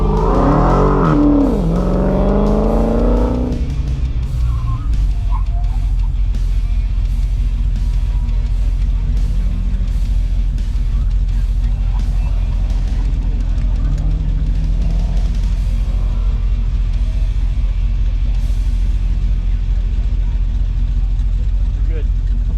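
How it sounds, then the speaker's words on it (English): A Dodge Challenger Scat Pack Widebody at an autocross event, its engine rumbling steadily with a rising rev sweep near the start, while people talk over it throughout. "we're getting ready to head out for the autocross"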